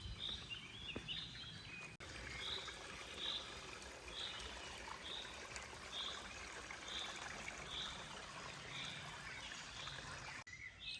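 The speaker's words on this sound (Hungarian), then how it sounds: "Bizony a csobogás is jelen van." A small stream at a ford in Bakony forest woodland babbles and trickles steadily at close range, with faint repeated bird calls chirping in the background.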